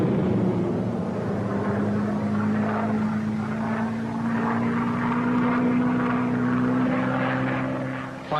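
A steady propeller drone from a 1945-era Fourteenth Air Force aircraft, a continuous low hum that slowly rises in pitch, loud and sustained throughout.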